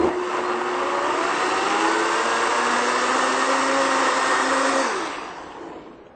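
A blender whirs loudly and steadily as it purées chowder soup, its motor tone rising slightly before spinning down near the end, with no voices.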